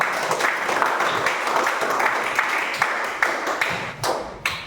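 A classroom of students applauds a group presentation with a dense burst of clapping that thins toward the end into a few separate, louder claps nearby.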